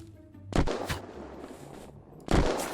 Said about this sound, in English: the gun sounds are so loud